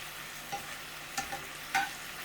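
Meat sizzles steadily in a hot pan, a constant frying hiss with a few light clinks and pops, no voices.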